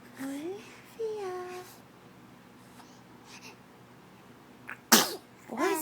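Young child sneezing once, sharp and close, at the breakfast table, preceded by babbling baby vocalizations and followed by more babble.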